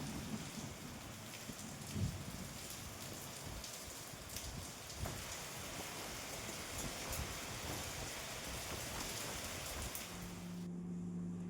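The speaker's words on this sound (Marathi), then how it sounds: "जोरदार पावसाची सुरुवात." Heavy rain pours steadily on surfaces, a loud continuous drumming hiss, with a faint low rumble near the start and a tonal sound at the end.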